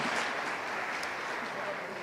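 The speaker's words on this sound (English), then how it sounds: "Big applause for our judges" Applause from a summit stage audience for the judges, a dense, steady wash of clapping that fills the whole moment, with some speech-like murmur mixed underneath.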